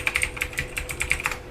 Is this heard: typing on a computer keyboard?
yes